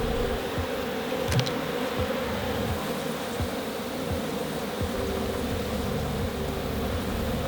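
Honey bees buzz steadily around an open hive during an inspection with a super removed, a dense, continuous drone close by, with occasional faint knocks and handling noises and no talk.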